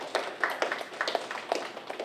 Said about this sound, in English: Yes, you can clap them.